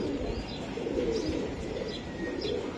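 Low, rolling coos from a group of racing pigeons fill the air continuously, nearby and steady, with occasional thin chirps and a faint flutter of wings; no one speaks.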